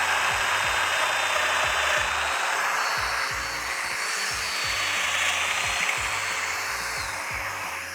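A power tool hums steadily throughout, cutting a mortise in wood during cabinet building, with a loud continuous whine and no pauses or talk.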